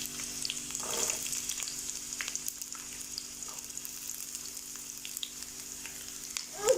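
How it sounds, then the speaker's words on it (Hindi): Medium onion sizzling in two tablespoons of oil in a pan, a quiet even fry hiss with faint stirring scrapes and a louder clink at the very end. "2 टेबलस्पून मैंने ऑयल ऐड कर लिया है। अभी इसमें एक मीडियम साइज़ का प्याज डाल देंगे।"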